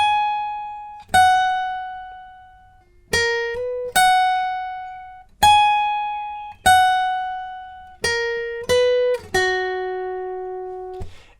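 A single guitar plays the solo from a song: about ten clean plucked notes, each ringing out and decaying before the next, close and clear with no voices.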